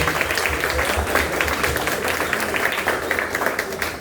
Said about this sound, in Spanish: démosle un aplauso a todas las mamás que están aquí